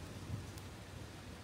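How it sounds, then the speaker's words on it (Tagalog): Steady rain falls on a street in a Jeju City shopping area, a continuous soft hiss that stays fairly quiet and even throughout, with no voices. "medyo lumakas ang ulan"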